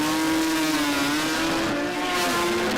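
Naturally aspirated drag cars, including a Corolla and a Datsun, launch off the line with a loud sustained engine wail that climbs in pitch and stays dense throughout.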